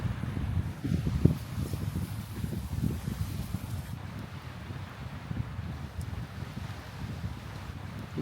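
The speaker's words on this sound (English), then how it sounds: "It's pretty windy tonight." Wind blows across a seaside island campsite at night, a low, continuous rumble and buffeting against the microphone, moderately loud and unbroken throughout.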